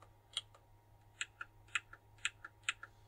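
Sharp plastic clicks from a thumbstick being pressed down on an Xbox controller, about eight crisp taps in an uneven rhythm, close and quiet over a low steady hum.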